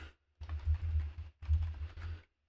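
Someone typing on a computer keyboard in two quick bursts of soft, close key clatter, separated by a short pause.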